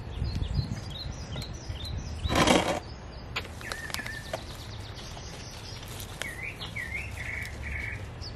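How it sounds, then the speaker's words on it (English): Birds chirp and call in a garden during planting, with short bright whistles and trills scattered over steady background noise and a brief rustling burst partway through. "The birds are so beautiful."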